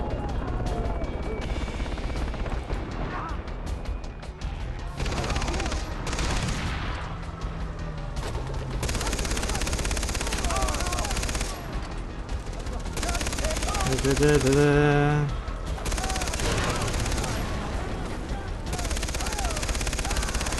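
Bursts of machine gun fire in the Far Cry 3 video game, repeated rattling volleys with short gaps, mixed with game effects and occasional player voices.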